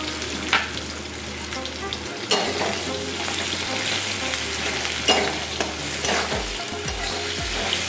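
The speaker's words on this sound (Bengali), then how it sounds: "আমি এর মধ্যে কুমড়োগুলো ভেজে নেব, তেজপাতাটা একই সঙ্গে দিয়ে দিচ্ছি।" Pumpkin pieces and a bay leaf frying in oil, a close continuous sizzle with repeated scraping stirs and soft knocks of a utensil against the pan.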